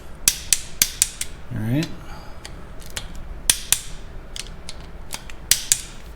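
A ratcheting wrench clicks in sharp, irregular bursts while tightening a bolt on a Harley-Davidson Twin Cam engine, close and crisp, with a brief spoken word partway through.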